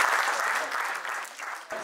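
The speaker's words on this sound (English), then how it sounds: "Give him a round of applause." Crowd at a motorcycle festival stunt show applauds a stunt rider, a brief burst of clapping that fades slightly before a short break.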